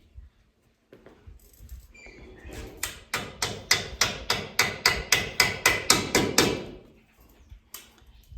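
A hammer strikes wood repeatedly while a beehive honey house is being built, about a dozen loud, evenly spaced blows in a quick steady rhythm, preceded and followed by quieter knocks and handling.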